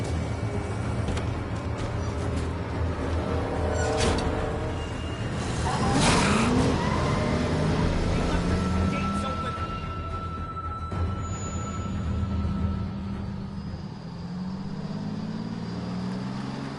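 A car engine runs steadily while driving in The Walking Dead: A New Frontier, a continuous loud rumble with passing whooshes and a brief tire-like squeal midway, with faint voices now and then.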